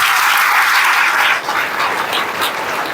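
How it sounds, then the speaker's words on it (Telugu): A church congregation at a Good Friday worship service claps loudly and continuously, a dense sustained roar of many hands that stays strong throughout. "దేవుని గట్టిగా చప్పట్లు కొట్టండి ప్రియులారా."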